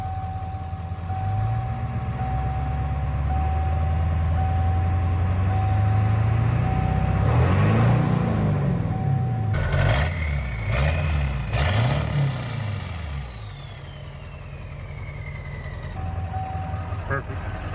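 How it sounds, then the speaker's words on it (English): A 1957 Chevy Tri-Five engine idles low and close, then revs smoothly in several rising and falling swells, with a steady high beep running through much of it. "when you rev it up now, totally smooth all the way through the RPM"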